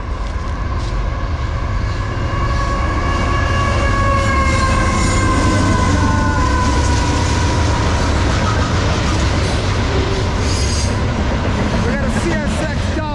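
A westbound CSX double-stack freight train rumbles past close by, loud and continuous, with wheel clatter, metallic squeals and a horn-like tonal drone.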